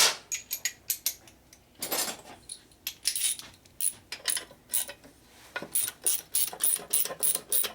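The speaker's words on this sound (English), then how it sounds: "Your 1/2-inch ratchet." Half-inch ratchet working a bolt on a Harley Evolution motorcycle engine during a loose primary belt drive repair, a series of quick metallic clicking bursts in uneven runs, close and clear with no talking.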